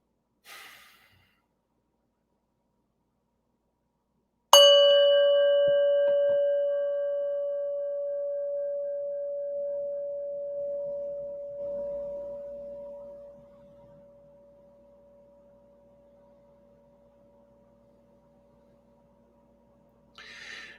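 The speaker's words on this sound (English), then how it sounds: "I'm going to ring a bell" A single bell is struck once, a clear tone ringing out and slowly decaying over about fifteen seconds in an otherwise quiet room, with a soft breath before the strike.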